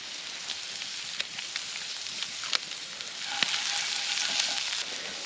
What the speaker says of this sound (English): I'm going to simmer the tiniest little bit of enchilada sauce in there